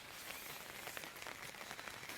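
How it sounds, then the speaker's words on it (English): Rain just starting to fall at a family campsite in Weymouth, a faint, steady patter of drops with soft scattered ticks, alone without talk. "So it's just starting to rain."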